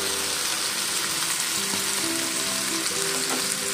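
Ginger, garlic and green chili paste goes into hot oil in a frying pan, giving a steady, close, bright sizzle with faint stirring underneath.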